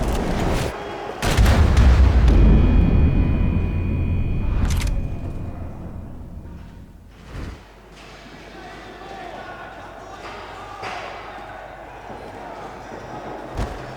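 Gunshots ring out in the video game Max Payne 3: a few sharp, loud blasts and thuds early on, then sparser shots amid shouting and game ambience.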